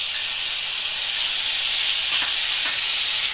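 Half a finely chopped tomato sautés with onions already fried pink in a pan, a loud, steady sizzling hiss running unbroken from start to finish.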